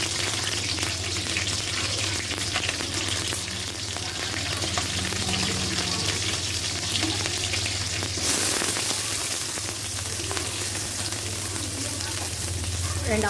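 Green chillies frying in a little hot oil in a pan, a steady close sizzle and crackle running the whole time with light stirring noises.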